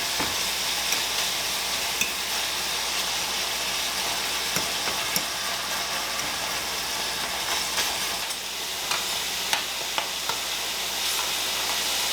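Ground meat for a quick goulash browns in a pan with a steady, dense sizzle and crackle, close and continuous, with occasional small clicks of stirring.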